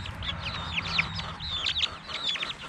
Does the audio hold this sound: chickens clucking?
yes